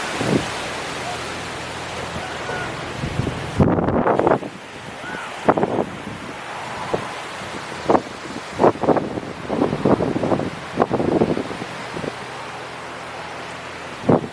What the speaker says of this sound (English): Forgive any wind noise.